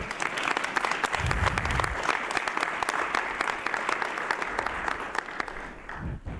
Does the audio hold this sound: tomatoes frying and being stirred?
no